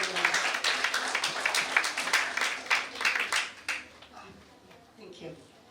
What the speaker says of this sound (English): Let's give her one big round of applause.